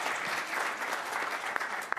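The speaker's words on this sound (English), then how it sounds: "So typically we hold our applause to the end" Steady applause fills a city council meeting chamber, a continuous wash of clapping hands at moderate level with a couple of sharper individual claps standing out near the end.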